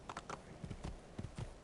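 Horse hooves clip-clop in a steady walking rhythm in the Assassin's Creed video game, quiet and close, about eight hoofbeats in under two seconds.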